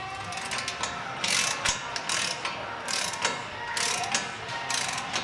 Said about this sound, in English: Go ahead and reinstall the nut.